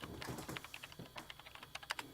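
Rapid keyboard typing from the visual novel ChäoS;HEAd, a quick irregular run of light key clicks, close and fairly quiet, with no talking.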